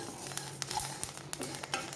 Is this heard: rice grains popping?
yes